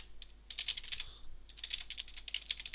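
Quiet, close keystrokes on a computer keyboard, two rapid bursts of typing separated by a brief pause as a command is entered, with no talking.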